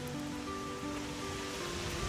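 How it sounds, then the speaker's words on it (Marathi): Waterfalls at Shiravane in Navi Mumbai give off a continuous distant roar of flowing water for about two seconds, steady in level, with faint tonal hum mixed in and no speech. "बघा एक इथे छोटे छोटे धबधबे आणि इथे एक धबधब्यांचा किंग"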